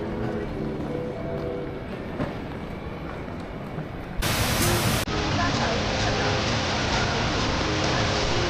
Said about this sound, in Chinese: 后面是星耀张仪那个大瀑布